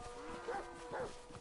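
Cows on a farm in GTA V give two drawn-out moos in quick succession, fairly faint against a low background hum, with no speech.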